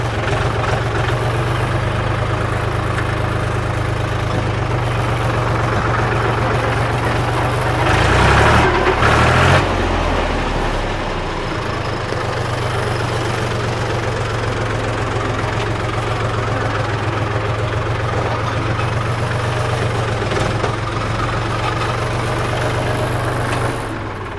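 A Mahindra 275 tractor engine idles with a steady low chugging rumble throughout, briefly revving louder partway through before settling back.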